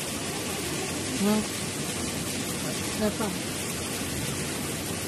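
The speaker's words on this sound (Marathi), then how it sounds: "पत्राचा आवाज येतोय का, किती पत्रावर पाणी पडू राहिलंय" Steady, loud broadband hiss of heavy rain pouring down on metal roof sheets, continuous and unbroken, with a couple of brief faint voice fragments underneath.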